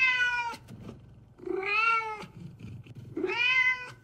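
Two drawn-out cartoonish meows from an AI-generated audio track for an animated cat, bright and clear, separated by a pause with faint low rumbling in between; no voices.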